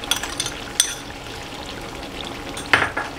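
Chicken with whisked curd, cream and black pepper frying in a pan, a steady soft sizzle with brief clinks and stirring scrapes, one louder clatter near the end.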